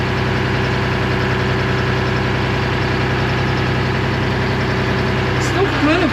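A 1975 International Loadstar 1850 truck engine idles steadily and loudly up close, a continuous low rumble with a slightly uneven, missing beat throughout.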